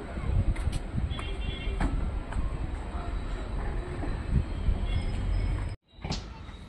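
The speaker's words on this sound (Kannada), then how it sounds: "ಟ್ರೈನ್ ಹೊರಡ್ತು." A passenger train pulls away on the Hospet to Challakere line in Karnataka, with a steady rolling rumble of wagons and faint clatter close by, dipping to near silence briefly before resuming.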